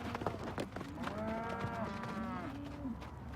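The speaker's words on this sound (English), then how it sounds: "This cattle's kind of new, still getting used to having humans around." Young, newly arrived yearling cattle on a feedlot moo repeatedly, with long, drawn-out bellowing calls over a steady background of farm noise and other animals.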